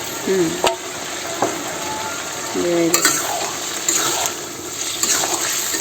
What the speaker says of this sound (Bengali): এই যে মশলাটা যে বাড়ছিলাম এটা দিয়ে দিতেছি কাঁচা লঙ্কা আর গোয়ামুড়ি গোয়ামুড়ি বাটা